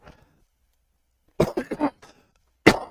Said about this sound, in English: Sorry if I'm occasionally coughing during this.